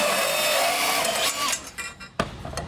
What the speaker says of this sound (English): the purpose of using the bandsaw is because of how user-friendly it is